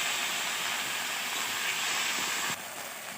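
Potatoes frying in oil as ginger, garlic and tomato paste go in for a chicken curry, a steady broadband sizzle and hiss throughout that drops slightly in level near the end, no voices.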